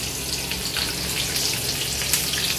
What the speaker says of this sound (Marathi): आता फोडणी देऊया